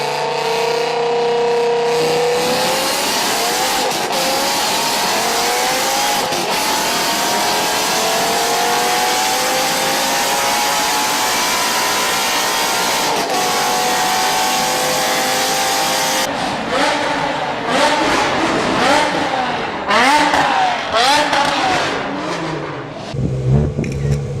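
A powerful BMW M5 E60 V10 engine revs hard and high, rising and falling in pitch, loud and sustained, then blips through quick throttle changes near the end.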